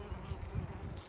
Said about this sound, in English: But look at the amount of bees that are on it.